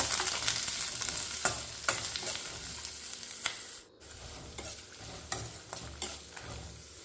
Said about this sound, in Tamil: அது வறுபட்டதுக்கப்புறமா பெரிய வெங்காயம் 2 அது நல்லா வதக்கிக்குங்க